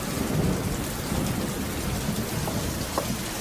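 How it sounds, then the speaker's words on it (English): Heavy rain pours down on a British high street in summer, a dense, steady hiss of drops hitting the surfaces, close and even throughout, with a few louder splashes and no voices. "Typical British summer, big celebrations, Queen's Jubilee, and it's tipping with rain."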